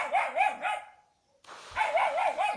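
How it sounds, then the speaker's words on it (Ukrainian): A dog barks outdoors in a rural garden, a quick run of several sharp barks, a brief silence, then another burst of barking, fairly close and clear. "Вибачаюсь, собака лає."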